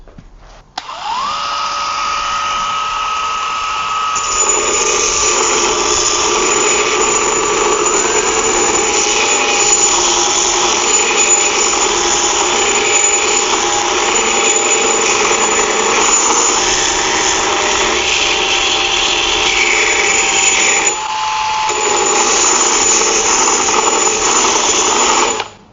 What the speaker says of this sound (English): let's have a go of sharpening the edge of a hatchet.